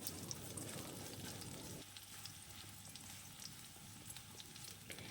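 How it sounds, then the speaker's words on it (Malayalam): Green chillies, shallots and garlic frying in hot oil, a steady, faint crackling sizzle that continues throughout with a soft change partway through, with no talk. "ഇതുപോലെ നല്ല മുരിഞ്ഞിരിക്കണം."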